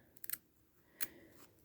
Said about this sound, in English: cut away what you need to cut away as you go, but just do little snips